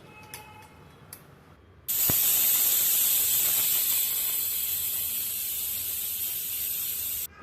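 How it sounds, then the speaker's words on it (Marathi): A pressure cooker of masale bhat (spiced rice) lets out a loud, sustained hissing whistle of steam that starts abruptly after a few faint clicks, holds steady for about five seconds, then cuts off. "कुकरच्या 3 शिट्ट्या करायच्या आहेत"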